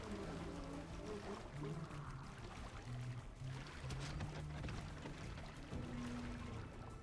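Steady flowing, pouring water fills the scene in the video game Hob, a continuous wash of trickling and streaming that holds level throughout, with faint low tonal game sounds underneath.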